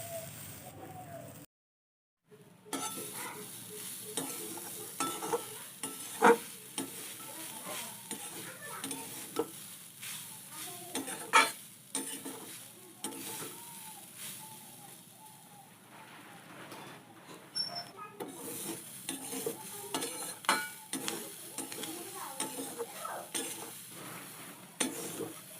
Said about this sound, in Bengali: নারকেল পুরটা শুকনো কড়াই দিয়ে একটু ভেজে নেব